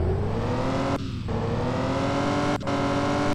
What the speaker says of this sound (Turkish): Bir egzoz patlatalım.